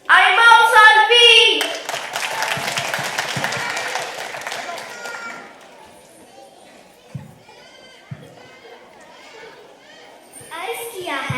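Audience clapping at a children's comic mushaira poetry gathering in Stockholm, a loud burst at first with voices, then thinning into scattered claps under someone speaking.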